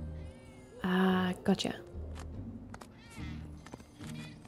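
Cats meow repeatedly in Final Fantasy 7 Remake, with a loud, drawn-out meow and several shorter cries scattered among game sounds, while someone talks over them.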